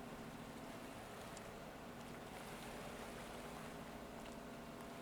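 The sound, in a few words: water sloshing around in the Stormworks video game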